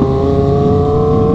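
A 250cc inline four-cylinder motorbike engine holds a loud, close, steady high-pitched drone with a strong tonal whine and only slight variation through the short stretch, heard alone with no voices.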